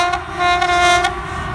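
A train at Gujar Khan railway station in Punjab sounds a loud, sustained horn over the rumble of the rail cars, close and dominant with no talk.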